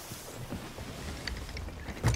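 A ship sailing out onto the sea in the video game Sea of Thieves: steady wind and water wash around the hull, with soft creaks and splashes, and a louder surge near the end.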